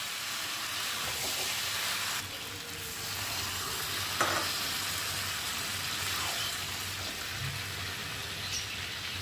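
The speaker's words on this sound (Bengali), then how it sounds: "গরম মশলাটা দিয়েও আমি কষিয়ে নেবো" Spices sizzle and stir with garam masala in a hot pan, a steady loud frying hiss with occasional scraping of the spoon, no voices.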